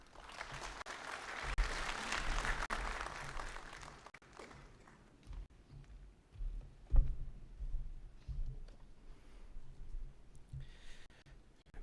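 An audience at an industry and trade awards ceremony in Pakistan applauds to welcome a speaker, with dense clapping at first that fades into scattered claps, shuffling and breathing.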